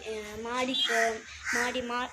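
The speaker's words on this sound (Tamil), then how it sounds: "காக்கா வேறு உட்காந்துட்டு தொலை பண்ணிட்டுருக்கு" Crows caw from nearby outdoors, a few harsh, ringing calls in quick succession, loud and clear with short gaps between them.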